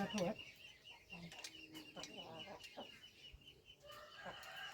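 Chickens and a rooster cluck repeatedly near a rice-grain feeding spot in a rural Thai yard, with short bursts of clucks and a brief crow-like call over a light outdoor background.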